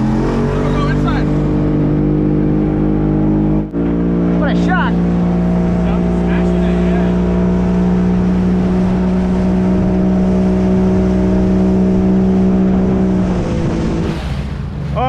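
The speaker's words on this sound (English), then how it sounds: "the outboard going in the background" A boat's outboard motor drones steadily and loudly throughout, its engine pitch shifting slightly, with a brief shout heard over it.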